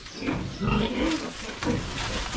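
Piglets on a pig farm squealing and grunting in a steady, close, fairly loud jumble of overlapping calls that runs the whole time.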